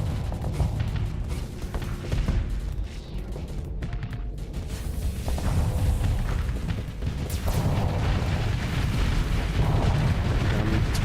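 Torpedoes blasting a pirate base in the space game Starsector: a dense, continuous barrage of booming explosions and rumbling impacts, loud and sustained, with bursts stacking on one another and no talk.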